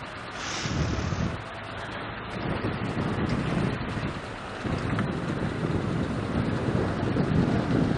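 Wind buffeting the microphone on an open safari drive, a steady, loud, low rumbling roar with gusty surges and no clear voices.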